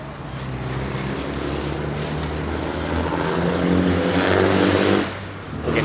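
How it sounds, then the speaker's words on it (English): A loud, droning rumble of heavy industrial trucks passing nearby on a major street in El Salvador, swelling toward the end before dropping off abruptly. "Really loud industrial trucks are just ripping by, very loud."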